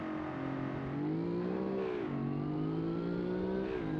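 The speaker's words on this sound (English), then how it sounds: "You can also hear the electric motor a lot more." Hybrid car accelerating in the BeamNG driving game in sport mode, its electric motor giving a loud, steady whine that climbs in pitch through two gear-like steps, heard alone without talk.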